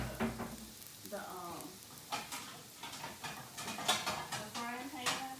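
French toast sizzles in a frying pan with a steady, faint crackle, broken by light clinks of a utensil against the pan, while a voice talks quietly in the background.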